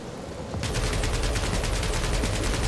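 Rapid automatic gunfire in Marvel's Guardians of the Galaxy starts abruptly after a moment of ambience, then continues as a loud, steady rattling burst.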